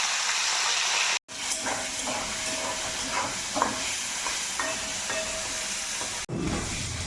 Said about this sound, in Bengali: এবার আমি কড়াইয়ে তেল দিয়ে নেব, দিয়ে চিংড়িটা ভেজে নেব।